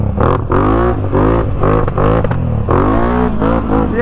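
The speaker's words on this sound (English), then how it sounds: "I haven't really ridden the four-wheeler with the new exhaust" Can-Am Outlander ATV fitted with a new exhaust, revving hard in repeated loud, close bursts that rise and fall in pitch, with brief gaps between pulls.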